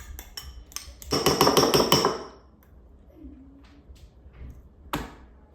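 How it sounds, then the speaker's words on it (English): Fork mashing avocado on sourdough toast gives a burst of rapid scraping and tapping clatter against a plate, preceded and followed by a few sharp single taps, close and fairly loud. "I'm gonna take a fork and just gently mash."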